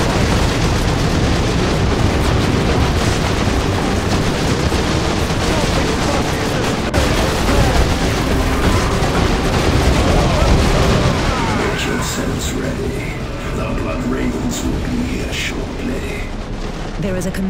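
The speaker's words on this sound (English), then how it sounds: "We are under heavy fire from insurgent forces inside the perimeter." Heavy, continuous gunfire and booming explosions from an insurgent attack inside a defensive perimeter in Warhammer 40k Dawn of War 2 Chaos Rising, a loud dense barrage that thins slightly toward the end, with game voices over it.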